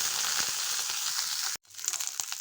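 Green chillies fry in about two tablespoons of hot oil for gongura peanut chutney, a dense crackling sizzle that cuts out abruptly, then resumes with sharper pops and spatters.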